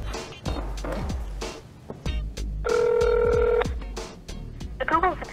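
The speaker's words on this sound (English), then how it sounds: "Shh, Mike's dialing." A telephone is dialed with a few short tones, then a steady ringing tone sounds for about a second, amid clattering handling noises and background speech-like sounds.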